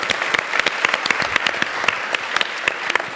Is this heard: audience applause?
yes